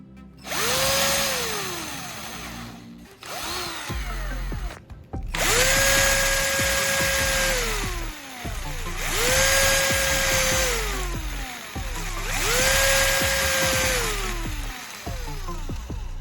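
A power drill with a rivet clamped on the bit as a depth stop bores holes in three loud, close bursts of about three seconds each. The motor winds up, holds a steady whine, then spins down between holes.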